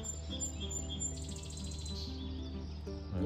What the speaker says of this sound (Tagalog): Naririnig mo yung huni ng ibon.